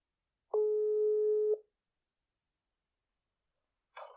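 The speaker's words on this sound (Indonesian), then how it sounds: "Langsung aja kita telepon orangnya." A telephone ringback tone during a call to a podcast guest: one steady electronic tone lasting about a second, followed by a long silence and a brief faint burst near the end.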